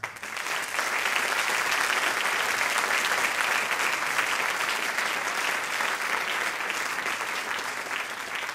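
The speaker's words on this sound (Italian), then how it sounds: "Credo che l'applauso sia veramente doveroso" An audience bursts into sustained applause, a thick, even wash of many clapping hands that swells quickly and holds loud for about eight seconds before tapering slightly.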